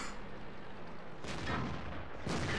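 Big cannon blasts from a T-30 tank in the World of Tanks video game, two heavy booms about a second apart over a steady rumbling background, with no talk.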